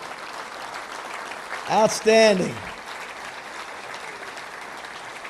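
A round of applause for former football players and coaches at a Little Rock touchdown club gathering, heard as moderate, continuous clapping from a crowd while someone speaks briefly in the middle.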